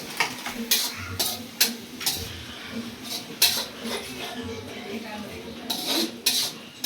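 Chopped onions fry in a pan on a home stove, with repeated metallic clanks and scrapes of a spoon stirring against the pan over a soft sizzle, and faint voices in the background.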